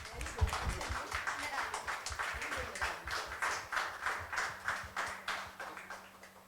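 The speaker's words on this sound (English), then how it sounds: "Can we have a big round of applause for her?" Rhythmic group clapping at a literature and art festival session, steady, evenly spaced claps in unison, close and clear, with a faint sustained tone entering partway through.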